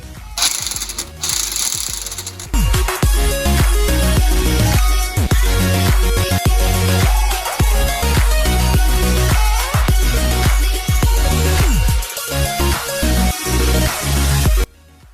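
An impact wrench tightens lug nuts onto a 2-inch wheel spacer on a lifted 2WD Silverado: loud, close bursts of hammering rattle come in repeated runs with short gaps between them.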